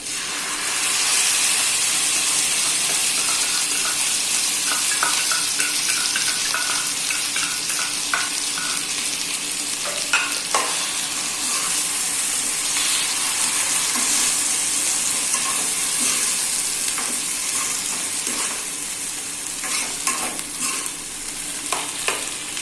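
Tomato-onion paste and chicken frying in a pan over a medium flame, a loud, close, continuous hissing sizzle with steam, broken by occasional stirring scrapes and clinks over twenty-odd seconds.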